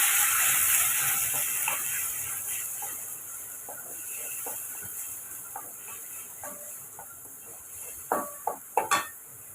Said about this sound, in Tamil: இப்போ நம்ம அரைச்சி வச்ச வெங்காயத்தையும் நம்ம சேர்த்துக்கலாம் சேர்த்துட்டு இதை வதக்கி எடுத்துக்கலாம்